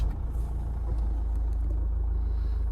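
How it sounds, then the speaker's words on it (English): A Toyota RAV4 engine runs at idle with a steady, loud low rumble that fills the clip evenly from start to finish, with no talk over it. "And I will now start the engine, pressing and holding that button."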